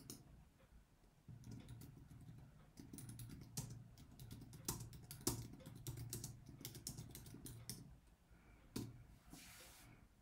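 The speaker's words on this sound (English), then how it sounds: "So let us type one more time here." Typing on a computer keyboard, a quiet run of irregular key clicks and taps in bursts with short pauses, close and faint, with no voices.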